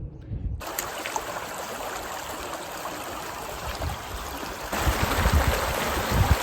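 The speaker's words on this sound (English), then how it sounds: "this year we got a nice mountain stream flowing" A mountain creek in Arizona's Superstition Mountains rushing and babbling steadily over rocks, a continuous close stream that grows slightly louder toward the end.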